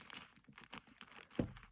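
Plastic or paper packaging around DC comic books is crinkled and handled up close, ending in one short, sharp tearing burst; quiet and brief.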